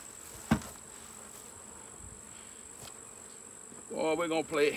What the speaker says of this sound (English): Look them bees chasing him around.